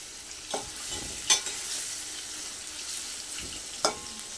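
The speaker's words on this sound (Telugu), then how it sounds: "ఇప్పుడు మీడియం ఫ్లేమ్లో ఒక 10 మినిట్స్ పాటు మంచిగా వేయించుకోవాలి" Bitter gourd pieces frying over a medium flame for masala curry, giving a steady soft sizzle with occasional stirring scrapes and clinks of a utensil in the pan, fairly quiet and close.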